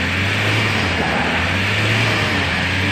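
A 2006 Kia Kyron SUV's engine hums steadily with a low drone throughout, smooth and continuous as the gears shift without noticeable interruption.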